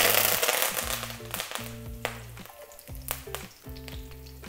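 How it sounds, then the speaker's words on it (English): Curry leaves hit hot oil in a pan for pumpkin curry, crackling and splattering loudly in a steady, busy sizzle with sharp pops scattered throughout. "Add the curry leaves, but be careful they splatter."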